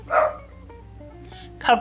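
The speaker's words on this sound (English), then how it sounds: "now he's barking again" A pet dog barks indoors, two short faint barks about a second and a half apart, with a low household hum underneath.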